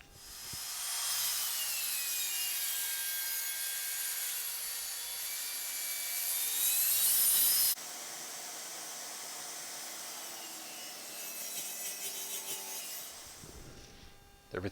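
A saw rips a wooden mallet handle from a chunk of firewood heartwood, a steady close cutting whine and rasp that holds for most of the time, then shifts tone partway through and fades at the end.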